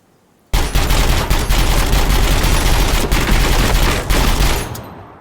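Sustained full-auto gunfire from a rifle in Gunsmith Simulator, emptying a whole magazine: loud, dense rattling bursts that run almost unbroken for about four seconds before cutting off, with no talking.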